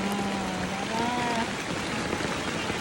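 Rain falls in a dense, steady hiss, close and continuous, with a faint tonal voice or sound briefly rising over it early on.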